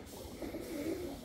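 A large pigeon of the Balyoz tayfası line gives a soft, low, rolling coo, brief and fairly faint, over a quiet background.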